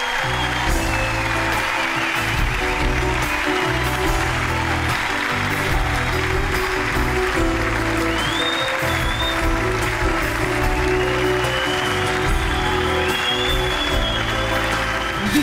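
An audience at a concert applauds in a steady, dense wash of clapping that continues at moderate loudness throughout, with music faintly underneath.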